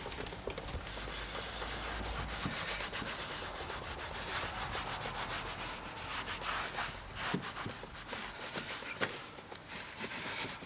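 Continuous close scrubbing and rubbing on a car's leather seat surface, quick back-and-forth strokes with brief pauses, no talking.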